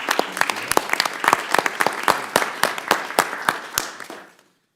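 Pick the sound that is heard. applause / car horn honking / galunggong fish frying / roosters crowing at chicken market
applause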